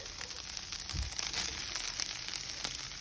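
Steak with onion fries in a pan over medium to low heat, giving a steady, faint crackling sizzle with an occasional soft clatter.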